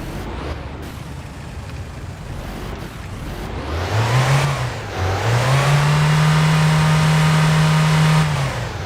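A car engine in the driving game My Winter Car revs up, dips, then holds a steady loud drone over constant road noise, alone without talk.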